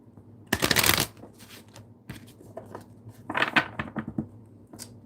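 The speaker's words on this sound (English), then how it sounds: "One more shuffle." Two bursts of tarot cards being riffled and shuffled close by, a long ripple at the start and another later, with small taps and handling sounds between.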